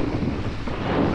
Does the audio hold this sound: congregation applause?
no